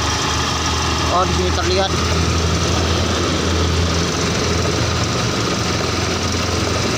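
A Yamaha Mio 125 fuel-injected scooter idling high with its throttle stuck against an adjustment bolt, a steady loud engine drone heard close up throughout while someone talks over it.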